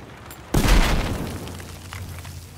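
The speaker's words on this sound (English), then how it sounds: "flashbang!" A flashbang grenade in the shooter game Battlefield 4 goes off in one sudden loud blast with a deep boom that decays into a ringing, muffled tail.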